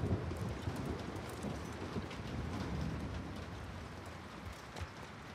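Thunderstorm ambience in The Last of Us Part II video game, a steady wash of rain with low thunder rumbling beneath it, continuous and moderately loud, with no speech.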